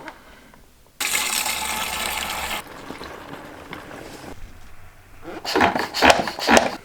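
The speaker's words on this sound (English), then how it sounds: "So we're just going to put some water in." Water pours into a hydro sprayer tank as a steady, fairly quiet rushing splash lasting a couple of seconds, followed by softer handling noises and a brief louder rattle.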